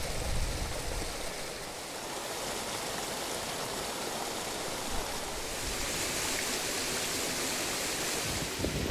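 Issue Clough Waterfall on Black Hill roars steadily nearby, a constant broad rush of falling water with no voices.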